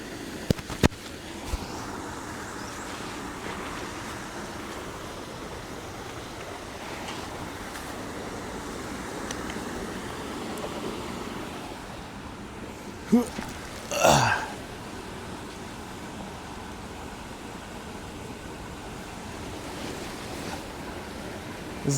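Waterfall in Toneri Park, Adachi, Tokyo, with a leaf blower droning far off; a soft, steady wash of falling water runs throughout, with a few brief knocks and a short louder burst partway through.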